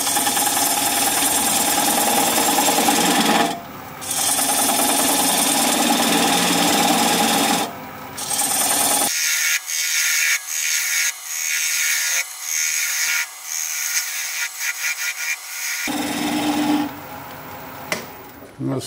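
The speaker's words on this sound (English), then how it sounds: "Gonna use a 3/8 inch bowl gouge and commence to removing that tenon." A wood lathe turning at about 600 RPM while a 3/8 inch bowl gouge cuts away a tenon, giving a loud steady whirring hum broken by rapid scraping chatter and brief pauses, heard close up.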